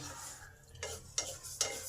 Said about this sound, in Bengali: ডালের কালারটা হালকা চেঞ্জ হবে তখনই ডাল ভাজাটা স্টপ করে দিতে হবে